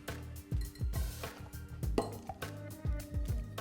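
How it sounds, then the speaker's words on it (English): Metal spoon folding egg whites into a chocolate-style mousse in a bowl, giving repeated soft scrapes and light clinks against the bowl in a steady rhythm, close and moderately loud with no talking. "Then you just carefully fold this through with a metal spoon."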